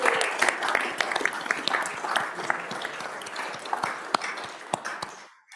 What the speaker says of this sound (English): If you'd all give him a big round of applause.